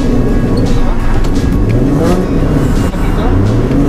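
Car engine revving hard during handbrake drift practice, a loud, close, continuous roar with rising and falling pitch as the throttle changes, and a voice speaking over it.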